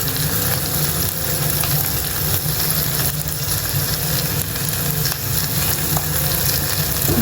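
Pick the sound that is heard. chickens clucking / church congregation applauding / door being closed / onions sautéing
onions sautéing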